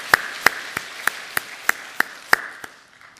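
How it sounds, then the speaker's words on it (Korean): A church congregation claps in unison during a Korean service, about ten crisp, evenly spaced claps in a steady rhythm, fairly close and clear with little else around them. "우리 감사로 하나님께 박수로 영광 올려드리겠습니다"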